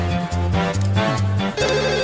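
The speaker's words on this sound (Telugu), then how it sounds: "చిట్టిగాని మిస్డ్ కాల్, ఈ ఫోన్ కాడే చేస్తున్నట్టున్నాడు." A telephone rings with a looping electronic ringtone melody of bright, repeated tonal notes, clear and close, with no voices.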